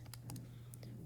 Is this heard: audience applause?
no